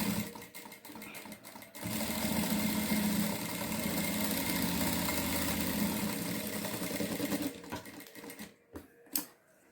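A sewing machine stitches a pattu saree blouse in a steady, close mechanical whir that runs continuously for several seconds, then breaks into a few short bursts and clicks as it stops.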